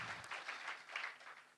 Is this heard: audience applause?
yes